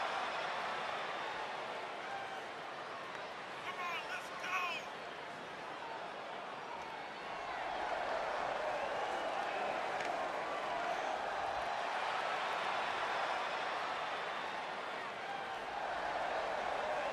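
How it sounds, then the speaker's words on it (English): Crowd cheering in a WWE 2K20 arena before a Goldberg versus Undertaker no holds barred match, a steady broad roar that swells midway and stays loud, with commentators talking over it at times. "it sounds to me like the crowd is more than ready for this one"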